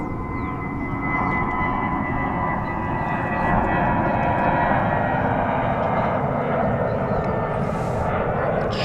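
A large aircraft rumbles and roars steadily on the runway at DFW Airport, a broad, sustained engine drone with no speech.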